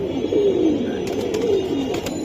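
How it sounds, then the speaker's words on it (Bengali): Saranpuri pigeons, a flying breed, coo in a steady low rolling murmur, close and fairly loud, with a few faint higher clicks and flutters mixed in and no talk. "এগুলা সারানপুরি ফ্যাটের কবুতর"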